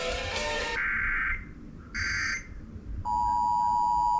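Emergency Alert System monthly test tones play as a few distinct electronic beeps and buzzes, with a short harsh burst and a high chirp, then a steady sustained tone continuing to the end, fairly clear against faint background noise.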